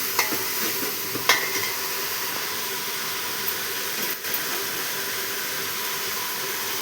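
Rice with garam masala is stirred in a hot pan, giving a steady loud sizzle and hiss with scraping stirs and a couple of sharp clinks, no voices.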